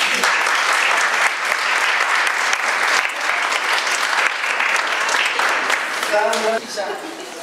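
Sustained audience applause after a law lecture in Salta, loud and dense throughout, with a voice briefly heard near the end as the clapping thins.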